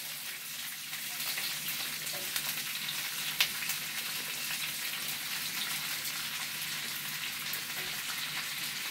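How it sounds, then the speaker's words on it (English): About six cups of cabbage strips and chunks fry in a pan alongside crispy chicken, giving a steady, even sizzle and crackle from start to finish with one small clink partway through. "So I'm going to add the cabbage, about 6 cups."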